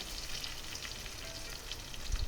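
Green chillies fry in a pan for jhinge moong ghonto, a faint, steady sizzle and crackle with a slightly louder bump near the end.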